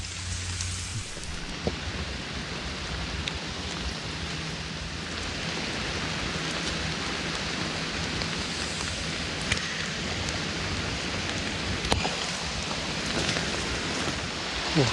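Steady rain pours down on a forest, a dense continuous hiss of drops on leaves and ground that stays loud and even throughout, with a few sharper drip hits standing out.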